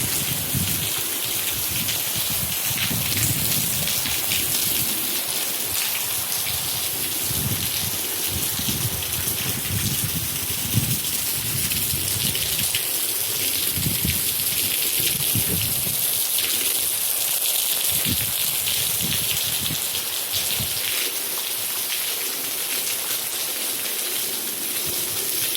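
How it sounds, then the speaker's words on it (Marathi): Afternoon rain falls outside a home window, a constant broad wash of drops and gushing water that holds at a steady, close level throughout, with no one speaking. "पण पडला, छान झाला पाऊस"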